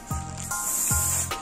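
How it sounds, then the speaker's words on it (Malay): Air hissing out of the neck of an inflated latex balloon in two short releases, each opening with a squeaky rising pitch and then a steady, close, breathy rush. "Buang sedikit angin"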